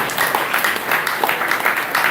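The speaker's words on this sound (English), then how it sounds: "Let's give a round of applause for Adhigadhara" Audience applause after a Sunday feast lecture at a Hare Krishna gathering, a brief steady patter of many hands clapping at moderate distance.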